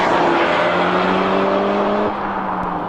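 A 2016 Peugeot 308 GTi hot hatch engine drones steadily at close range, its pitch holding even with a slight dip near the end, like cruising under load.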